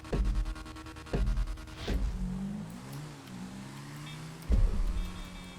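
Engine of a BF400 in GTA 5 Online during a dirt bike race, a throbbing motor with rev bursts and harmonic sweeps, loud and close, rising and falling.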